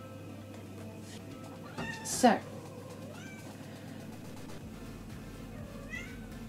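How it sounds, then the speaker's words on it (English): A house cat meows at a door, wanting to be let in, with a brief cry and a louder one, then faint later meows in a quiet room. "I'm gonna have to let the cat in."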